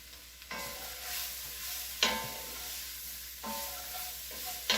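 A roux with vegetables sizzling steadily in a pan for jambalaya, with a few distinct scraping strokes from stirring cutting through the frying hiss, close up and with no voices.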